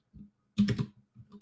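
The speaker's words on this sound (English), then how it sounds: "I'm not doing good with typing today." Typing on a computer keyboard, heard as quiet, close key clicks in short bursts: a soft tap, then a quick cluster of keystrokes, then a few more, with no talking.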